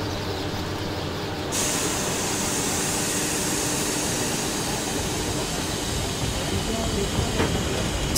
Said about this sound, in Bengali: ট্রেন এবার ছেড়ে দেবে অভি?